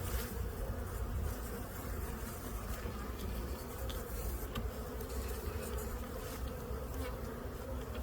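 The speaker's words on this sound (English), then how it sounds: "Got lots of bees up here." A steady, dense hum of many honey bees rises from an opened hive, a close and unbroken buzzing that holds the same level throughout without any voices.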